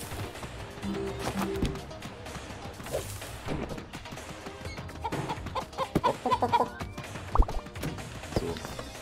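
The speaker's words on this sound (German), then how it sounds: "ein Huhn oder was?" Clucking from a chicken in the video game Moving Out sits among busy game effects, crashes and bangs, in scattered bursts with a voice talking over it.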